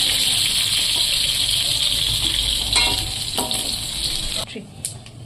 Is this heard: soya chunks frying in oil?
yes